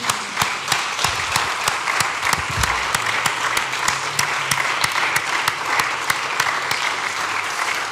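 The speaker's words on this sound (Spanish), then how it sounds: "Un aplauso, por favor." Steady, dense applause from an audience at a poetry, music and visual arts gathering, loud and continuous throughout with many hands clapping at once and no talk over it.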